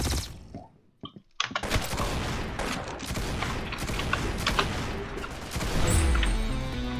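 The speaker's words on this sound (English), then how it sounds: "They added a new sound effect for the gun." Gunfire in a one-on-one video game match, a dense, fast stream of close shots starting after a brief quiet gap and continuing loudly to the end, with a rising tonal effect near the finish.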